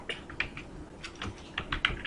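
Keys on a computer keyboard clatter in quick, uneven bursts at close range, fairly soft, with no voice over them.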